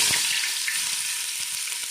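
Mustard seeds and onion tempering in hot oil for chicken curry, a loud close sizzle with small pops and crackles, no talking.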